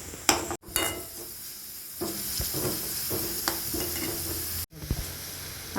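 Asafoetida sizzles in hot coconut oil in a pan, a continuous close hiss with stirring scrapes and a couple of brief breaks.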